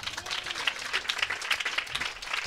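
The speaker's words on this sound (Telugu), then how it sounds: "గట్టిగా చప్పట్లు కొట్టి స్తోత్రం." A church congregation claps together during a sermon, a dense, steady burst of applause that lasts a couple of seconds.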